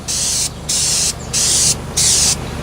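Spray paint hisses from a can onto a plastic bottle being turned for a fishing jug, in four short, even bursts separated by brief pauses.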